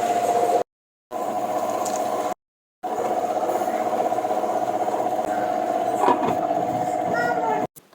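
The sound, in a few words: wet grinder grinding soaked rice for appam batter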